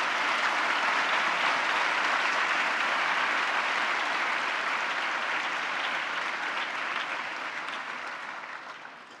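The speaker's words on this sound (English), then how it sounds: "give them a big round of applause" An audience at a cultural festival applauds steadily for several seconds, a dense, even wash of clapping that gradually tapers off toward the end.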